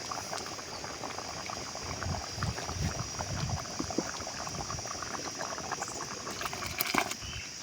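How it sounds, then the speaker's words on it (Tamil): Mashed dal poured into a pot of boiling sambar made with vegetables, a steady bubbling, pattering wash of liquid with soft splashes throughout, fairly close and continuous with no talking. "இப்போ நம்ம பருப்பை உள்ளே ஊற்றிக்கலாங்க"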